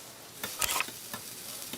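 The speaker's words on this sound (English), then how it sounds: "Look at that sizzle. Did you hear that? Relax, it's just the grill." Hot subs sizzling on a restaurant grill, a soft steady crackle broken by a few brief scraping or stirring bursts, close and fairly quiet with no talk.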